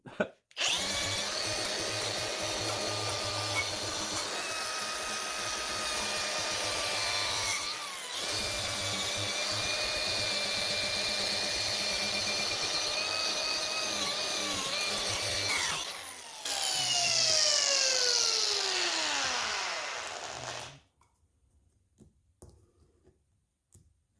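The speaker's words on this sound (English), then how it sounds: "I'm just trying to flake off what little bit of paint's there." Scraping and grinding away flaking paint from a trailer wheel produces a loud, continuous rasping whine with steady tonal drone, pausing briefly a couple of times before the tool spins down and stops near the end.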